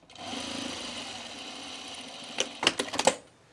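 A sewing machine stitches a V-neck coat, sewing from the back side. A steady mechanical whirr runs for about two seconds, then gives way to a quick run of sharp clicks and taps near the end.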